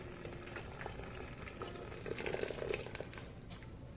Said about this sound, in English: I'm grabbing each jar and tipping it to dump out the water